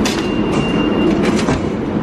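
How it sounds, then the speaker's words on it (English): Ride on the New York City subway 7 train, a loud, steady roar of the moving car with rattling wheels and a faint high whine throughout. "We're on the 7 train right now."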